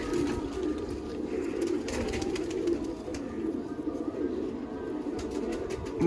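Pigeons coo softly and continuously over a low background murmur, several birds close together.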